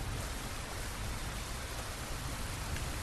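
Steady rain pours down during the monsoon season, a dense, even hiss of falling drops with no pauses and no voices.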